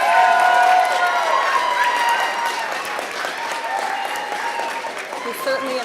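Applause from an audience at a wearable arts hat event, with scattered claps and crowd murmur under ongoing talk and tonal voices, fairly loud and continuous throughout.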